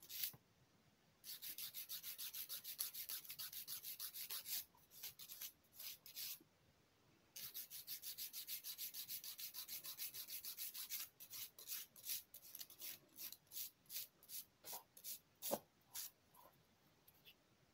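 A nail file rasps against a broken fingernail being shaped, quick close scratchy strokes in bursts, steady at first, then shorter separate rubs toward the end, with brief pauses between passes.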